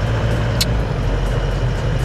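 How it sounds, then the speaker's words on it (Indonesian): Large container trucks pass on a winding mountain road with many tight bends near Bajawa, heard as a steady, loud, close engine and road rumble that runs without a break and with no voices. "ketemu banyak sekali truk-truk kontainer super besar lewat jalan ini"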